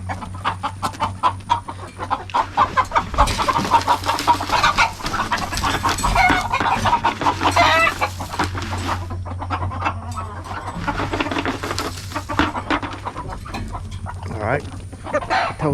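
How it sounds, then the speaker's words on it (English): Chickens cluck and crow steadily around a farmyard on a morning feeding round, a rooster mixed among the flock, with a low steady hum beneath and occasional voices in the background. "We call it BJ's batch of chickens over here"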